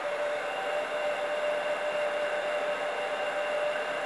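A heat gun blows steadily while shrinking covering film on a model airplane, giving an unbroken, even hiss of rushing air with a faint tonal whine and no talking.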